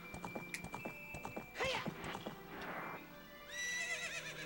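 Horse in Zelda: Ocarina of Time, rhythmic clip-clop of galloping hooves followed by two distinct whinnies, the second rising high and wavering, fairly close with no talk.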